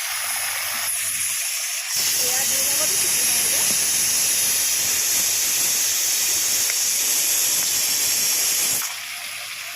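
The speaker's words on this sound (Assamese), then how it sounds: "2 নম্বৰটো চিটি মাৰিলে, চুইচটো অফ কৰি দিলোঁ।" A pressure cooker on a home kitchen stove whistles, releasing a loud, steady hiss of steam that lasts about seven seconds before cutting off, with quieter kitchen ambience before and after.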